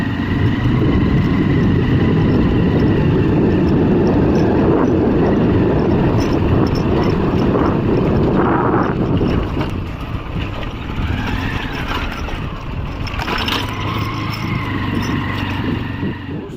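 A motorbike ride toward a goat farm under construction, with a steady, loud engine drone and road rumble throughout, easing slightly partway before continuing, with no talking.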